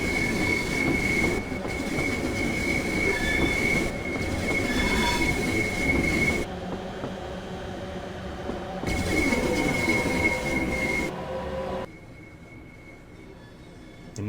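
A simulated train on the North Kent Line near Rochester Bridge Junction accelerates with a steady rumble, rhythmic wheel clatter and a thin wheel squeal, and the noise drops away sharply near the end.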